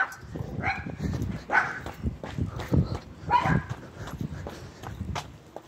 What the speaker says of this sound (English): Oh, here's all these dogs.